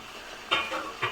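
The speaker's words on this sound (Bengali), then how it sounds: "এখন ঢাকনাটা তুলে নেব।" A pot lid lifted off rui fish balls frying in a pan, a couple of sharp metallic clanks over a low background sizzle, close and moderately loud.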